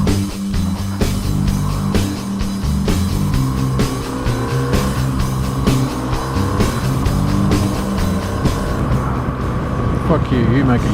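A car drives along a road and swings through a U-turn, its engine droning steadily and tires squealing in spots, close and loud throughout the stretch with no voices.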